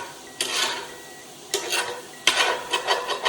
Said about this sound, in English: So I'm breaking up the beef a little bit.